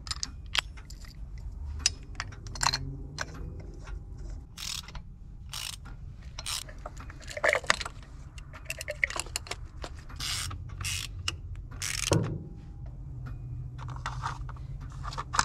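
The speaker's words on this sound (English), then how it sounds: "time to put some spark plugs in" Spark plugs, NGK BKR7E, are fitted into a Nissan 240SX SR20DET engine with a ratchet, giving a string of quiet, close mechanical clicks and ratcheting ticks, irregular and sparse, with no speech.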